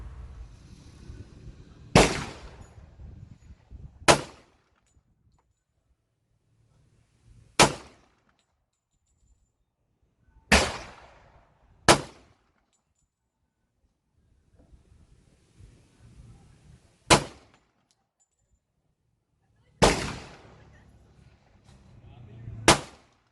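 Seven sharp shots from a Glock Model 29 handgun fired at a target on an outdoor range, each a loud crack with a brief decaying tail, spaced irregularly a few seconds apart, with light wind noise and faint murmurs in the gaps.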